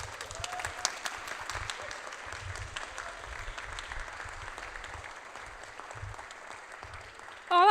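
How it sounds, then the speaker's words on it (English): A small audience gives a steady round of applause at a community retrofit event in Balsall Heath, Birmingham, the clapping holding level throughout before a sudden louder burst at the very end. "What a lovely little round of applause."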